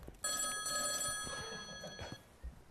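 A telephone bell rings in a steady, sustained trill that lasts about two seconds with bright, tonal overtones, close and fairly quiet, followed by a brief low thump.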